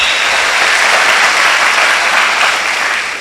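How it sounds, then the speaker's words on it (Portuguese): A church congregation at a Brazilian worship service breaks into loud, dense, sustained applause, a continuous wash of clapping that stays strong throughout before easing slightly at the end. "aplaude bem forte"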